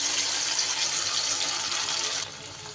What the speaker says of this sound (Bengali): মশলার বাটিটা ধুয়ে একটু জল দিয়ে দিচ্ছি